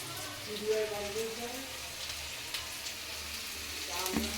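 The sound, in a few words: onions frying in a pan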